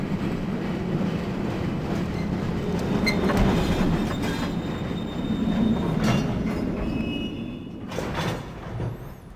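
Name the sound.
train ride arriving in video game Riven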